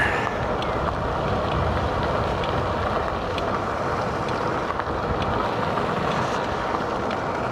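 Electric boat cruising on a single motor across open water, a constant low hum and wash of water with wind buffeting the microphone, steady and unbroken for the whole stretch, no voices.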